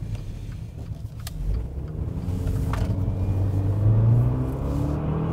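A Maserati Levante Hybrid drives and turns, its engine rumbling low and building in a gradual acceleration with a rising tone, heard from inside the cabin with a few faint clicks and no talk.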